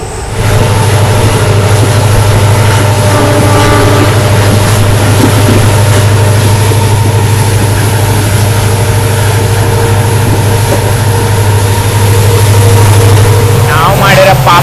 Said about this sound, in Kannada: ಟನಲ್ ಒಳಗಡೆ ಇದ್ದಾನೆ, ಆ್ಯಕ್ಸಿಲರೇಟ್ ಮಾಡ್ತಿದ್ದಾನೆ, ಫುಲ್ ನಾಚಲ್ಲಿದ್ದಾನೆ. ಅದು ಆ್ಯಕ್ಸಿಲರೇಷನ್ ಸೌಂಡು